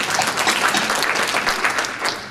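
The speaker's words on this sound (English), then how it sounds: "Give him a round of applause." A room full of people applauding, thick continuous clapping at a constant level throughout.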